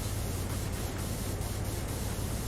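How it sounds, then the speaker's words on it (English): Pressure washer spraying in the video game PowerWash Simulator gives a steady, loud hissing rush of water that continues without pause for the whole stretch, heard alone without talk. "So let's just keep spraying some stuff for a little bit because we got a few minutes left."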